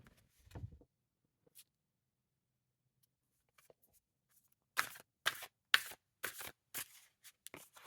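Tarot cards being shuffled and drawn: a brief rustle early on, a quiet stretch, then a run of sharp, close card snaps and slaps in quick succession.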